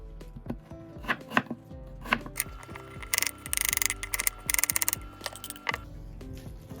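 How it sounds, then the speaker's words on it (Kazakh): Rapid knife chopping of apples on a cutting board, scattered strokes at first, then fast rhythmic bursts of close, crisp chops. "Сосын алманы біз турап аламыз"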